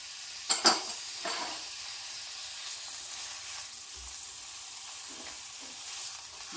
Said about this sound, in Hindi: ये हम ऑयल डालेंगे और इसमें प्याज डालेंगे।